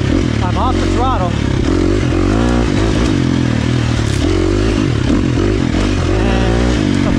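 A 2023 KTM 350 XC-F four-stroke dirt bike engine drones and revs continuously up close during a ride off the throttle, with wind rumble and someone talking over it throughout.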